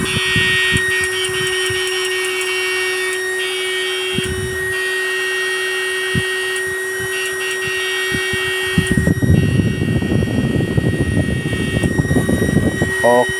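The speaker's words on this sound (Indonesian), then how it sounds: "Soalnya kipasnya kencang" A strong cooling fan runs steadily on a saltwater brackish-water electric fish-stunning unit, a constant whirring hum with tonal whine, close and continuous, with a person talking over it for much of the time.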